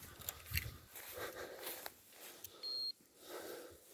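A short electronic beep from an electric fence energizer pulses once among faint outdoor rustling and shuffling on a farm, sharp and steady for a moment before cutting off.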